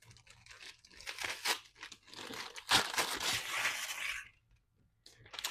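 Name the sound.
gift wrapping paper being torn open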